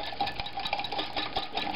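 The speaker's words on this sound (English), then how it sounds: "There you go, high speed whisking action" Fast whisking in a bowl while making bleenies, a quick run of light rhythmic metallic ticks and scrapes, close and moderately quiet.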